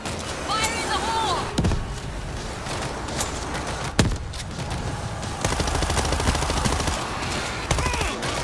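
Gunfire from the World War Z video game crackles in dense, repeated bursts, with sharp transients over a busy, chaotic battle mix.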